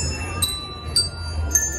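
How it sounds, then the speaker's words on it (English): Three bright, ringing bell strikes spaced evenly about half a second apart, each leaving a sustained tone over a low background hum. "So tonight, we're going to be playing the bells."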